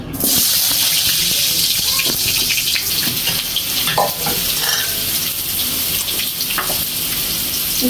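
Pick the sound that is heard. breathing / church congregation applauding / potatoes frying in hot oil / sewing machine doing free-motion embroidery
potatoes frying in hot oil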